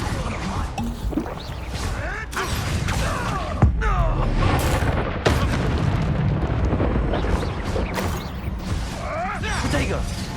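A blasting spell explodes in the Hogwarts Legacy video game. Loud booms and crashes sit over a dense, continuous game soundtrack and effects, with the player's voice talking over the action.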